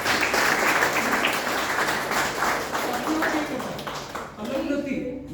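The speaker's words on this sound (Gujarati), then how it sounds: "આપણે જોરદાર તાળીઓથી શર્લીને આવી" An audience at a program event applauds to welcome Shirley, a dense, sustained roar of clapping that gradually thins out toward the end, where a voice begins to come through.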